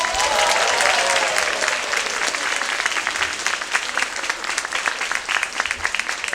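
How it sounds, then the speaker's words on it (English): A crowd at a special needs talent showcase gives sustained, even applause, with many hands clapping close and loud throughout and faint cheering at the start. "Let's give them all another round of applause."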